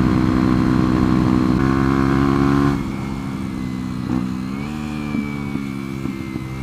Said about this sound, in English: It's the first time I've ridden to Lumi's on a 125.